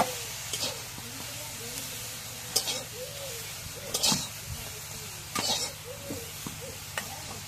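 Greens drop into hot oil in a village kitchen and sizzle steadily, with scattered stirring clatters and a voice speaking in the background.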